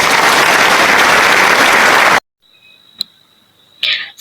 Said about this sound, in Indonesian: Ayo beri tepuk tangan dulu terus hasil diskusi kelompok 3.